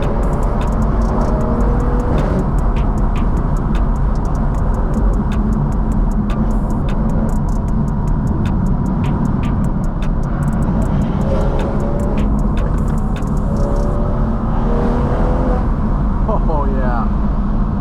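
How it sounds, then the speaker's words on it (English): B58-engined car fitted with an FBO exhaust, driving on a hot day, heard as a loud continuous engine and exhaust drone with road noise, a steady ticking, and talk over it. "And then hopefully later on in the video we're gonna get some exhaust clips too. It sounds pretty good."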